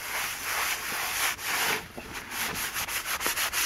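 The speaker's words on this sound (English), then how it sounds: "get my trusty new cloth and I'll try and wipe it off" A cloth rubbed back and forth over a wood surface to wipe off finish, giving a steady close scrubbing swish that turns into short rhythmic strokes.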